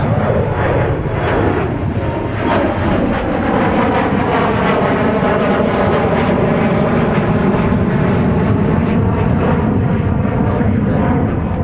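A Delta Airbus A350 jet takes off and climbs strongly from Minneapolis–Saint Paul airport. A loud, sustained engine roar with rising and falling tonal whine bands fills the whole stretch, with no voices.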